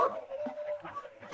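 A dog barks and yips in short bursts, fairly close, with a faint whine running underneath.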